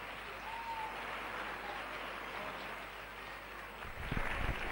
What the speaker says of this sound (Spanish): Me gustaría que le diésemos un fuerte aplauso